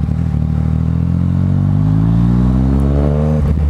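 A Yamaha MT-09 motorcycle engine revs loud and close, its pitch climbing steadily over several seconds before dropping off abruptly at the end.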